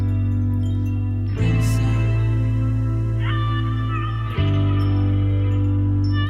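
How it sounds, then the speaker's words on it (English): Sustained tonal music carries a plaintive, wavering cat-like meow sound over steady low droning notes, with a sharp shift partway through. "We've got a cat meowing, or a baby in slight discomfort."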